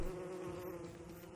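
Killer bees in Don't Starve Shipwrecked give off a continuous droning buzz, close and steady, with a dense insect hum and no talk.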